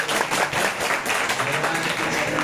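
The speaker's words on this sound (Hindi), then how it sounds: "ताली बजाओ।" Audience applause at a house religious gathering in Jaipur, a dense continuous wash of many hands clapping at steady loudness for a couple of seconds, with no voices on top.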